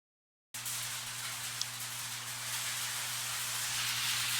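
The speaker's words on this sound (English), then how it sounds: "Listen to that. That's actually rain." Steady rain drums on a metal garage roof at the back of a home office during a thunderstorm, a dense continuous hiss that starts abruptly and holds at a constant level, with a low electrical hum beneath.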